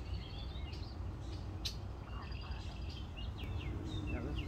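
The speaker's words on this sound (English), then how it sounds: "Beautiful birds singing." Birds sing and chirp in a park near water, with faint high calls scattered through a steady low background rumble.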